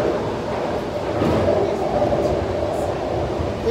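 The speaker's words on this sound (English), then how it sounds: "We are on the metro." Steady rumble and hum of a metro train on T9 services running under way, with wheel and track noise filling the cabin and faint talk nearby.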